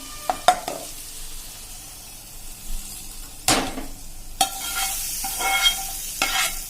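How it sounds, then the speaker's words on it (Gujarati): Hot spice tempering is poured into cooked dal for Kathiyawadi-style dal pakwan, giving short, bright sizzling bursts and stirring clatter that flare up and fade across the clip. "અને હવે આપણે આ વઘારને આ દાળમાં પોર કરી દેશું, એટલે કે મિક્સ કરી દેશું"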